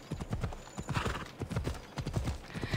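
Rhythmic hoofbeats of a galloping horse in Assassin's Creed Odyssey, quick repeated clip-clop thuds close by, with faint background ambience.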